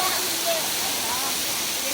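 Water pouring down from mountain waterfalls at Yellow Dragon Stream, a loud, steady broadband rush filling the scene, with a voice speaking over it.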